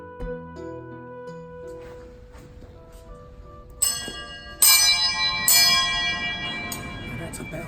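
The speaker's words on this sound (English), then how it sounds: "That's a bell." Church bell ringing in Poland, several loud metallic strikes with long ringing decays layered over one another, preceded by quieter tonal sounds and low background murmur.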